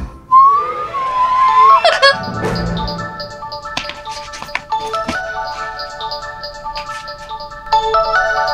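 A telephone ringtone plays a repeating electronic melody that rings steadily for several seconds. It follows a brief sliding tone and a dull knock near the start.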